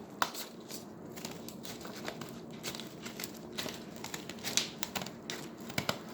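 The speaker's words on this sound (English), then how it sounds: "Get my scissors. And I am going to cut" Irregular crisp snips and crinkling of holiday craft material cut with dull scissors, close by, a steady papery rustle with sharper cuts popping out here and there.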